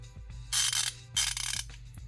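A Kobalt Pro 90-tooth ratchet with a socket fitted clicks as it is turned, giving two short bursts of fine, rapid, crisp metallic clicking, close and clear.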